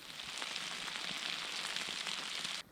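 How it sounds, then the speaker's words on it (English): Potatoes wrapped in tin foil with oil, garlic and herbs cooking on a campfire, giving a faint steady sizzle and crackle like light rain, continuous and close, then cutting off abruptly. "sizzling away beautifully with all the oil and garlic and all the herbs in it"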